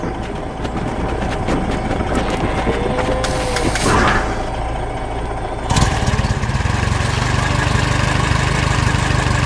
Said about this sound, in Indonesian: Mesin konstruksi beraksi.